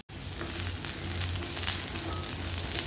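Onion sautés in a pan for a carrot and drumstick-leaf stir fry, giving a steady, close hiss and crackle of frying oil that continues throughout with no one talking.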